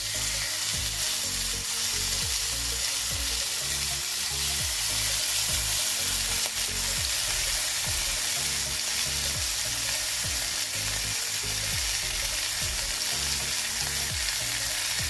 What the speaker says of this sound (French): les côtelettes pour les griller